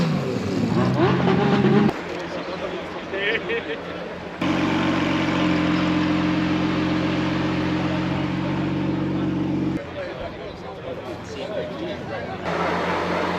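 Lamborghini engines rumble and rev in a large convoy of Huracan Evo supercars gathered for a charity drive, loud deep idling and revving close by, broken by shifts in level as cars move and people talk over it.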